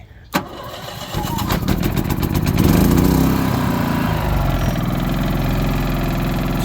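A Harbor Freight 3,000-watt portable generator mounted on the back of a semi truck is pulled to start, then catches and settles into a loud, close, steady engine run.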